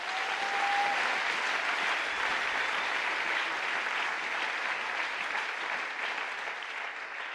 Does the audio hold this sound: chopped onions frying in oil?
no